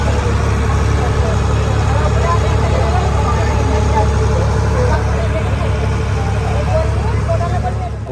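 A crowded passenger ferry to Elephanta Island off Mumbai runs on a steady, low, rumbling engine drone that holds at an even level throughout, with no pauses or changes in pitch.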